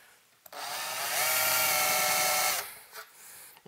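A power drill bores a hole in metal for a tube amplifier ring, one steady whining run of about two seconds that starts and stops sharply, with faint handling noise before and after.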